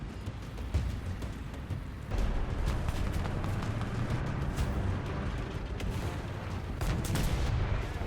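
A tank cannon fires in War Thunder with a Leopard 1 in play, a deep rumbling boom that swells and then rolls on as a sustained low-frequency roar with scattered sharp cracks, and no talk.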